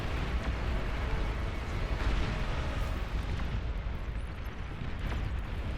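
Artillery fires in the strategy game Beyond All Reason, a dense rumbling barrage of overlapping booms and blasts that rolls on steadily at close range, with no talk.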